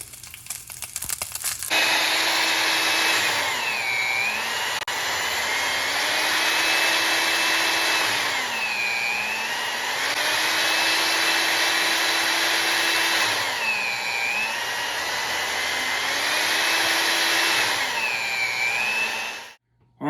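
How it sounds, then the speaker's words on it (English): An older, loud electric meat slicer runs steadily while slicing beef thin for jerky, a constant close whine with a motor hum that dips and rises in a slow repeating cycle as each slice passes, then cuts off. "So I am going to turn it on. It is loud, it's an older slicer."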